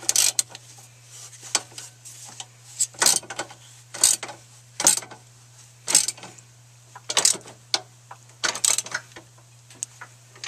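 A 14mm deep well socket turned by hand to tighten a brace on a Nissan Versa, giving a run of close, crisp ratcheting clicks in short irregular bursts over a steady low hum, with no voices.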